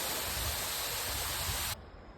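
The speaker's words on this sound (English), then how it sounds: "These falls are called Madonna and Child" The Madonna and Child waterfall, roughly 100 to 200 feet high, roars as a loud, steady broadband rush close by, then the sound abruptly drops to a quieter background hiss.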